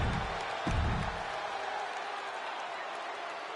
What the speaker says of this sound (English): Tiffany Stratton getting a warm welcome from this home crowd